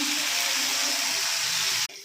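Chopped tomato dropped into hot oil with onions sizzles in a pan with a dense, even, close-up hiss that holds steady and then cuts off abruptly near the end.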